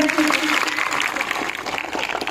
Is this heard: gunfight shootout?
no